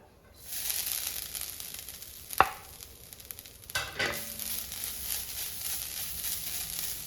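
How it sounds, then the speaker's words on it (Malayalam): Grated coconut hitting a hot pan and roasting, a steady close sizzle that starts abruptly and continues with a couple of sharp stirring scrapes, no voices. "അപ്പം നമുക്ക് അരമുറി തേങ്ങ നമുക്ക് ഈ ചട്ടിയിലോട്ട് ഇട്ട് കൊടുക്കാം"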